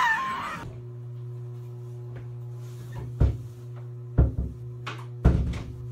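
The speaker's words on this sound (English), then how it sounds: "That's the door." A toilet door in a coffee shop knocks and thuds several times at irregular intervals over a steady low mechanical hum, after a brief burst of voice at the start.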